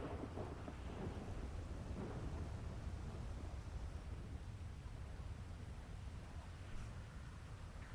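A thunderstorm in GTA V NoPixel roleplay: a low, continuous rumble of thunder with rain and wind noise, faint and distant, steady throughout.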